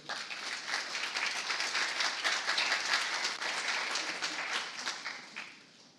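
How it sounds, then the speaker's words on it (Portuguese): An audience applauds a speaker at an accessibility and compliance talk, a dense wash of many hands clapping steadily for several seconds before fading out at the end. "Aplausos para ele, gente"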